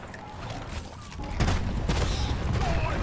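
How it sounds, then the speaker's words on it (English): A minigun in Deep Rock Galactic opens up and keeps firing, a dense, steady roar of rapid shots that starts partway in and holds loud to the end, with earlier game noise beneath. "We'll just do really high damage here with our minigun"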